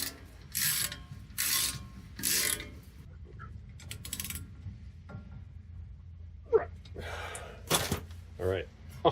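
A ratchet tightens bolts during a new suspension install on a 1969 Dodge Charger, several short bursts of rapid clicking near the microphone, separated by pauses with occasional metallic clinks and someone talking.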